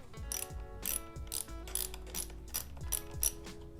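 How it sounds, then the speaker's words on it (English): A ratchet wrench turns a mountain bike rear shock bolt, steady rapid clicking of the pawl in several bursts, close and clear, with no voices. "Ratchet works best for this because you don't really have room for a T-handle."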